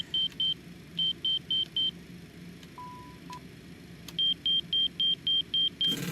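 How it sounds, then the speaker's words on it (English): Citation X cockpit warning alarms during a rotary test: a run of short regular electronic beeps, a brief lower steady tone, then another rapid series of beeps over a quiet cabin hum. "the fire warning sounds very similar to the overspeed"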